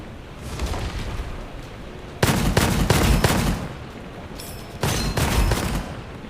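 Default starting weapon firing in the shooter game Gunfire Reborn, in the Longling Tomb level: two loud bursts of rapid gunfire shots over a steady game background, with no talk.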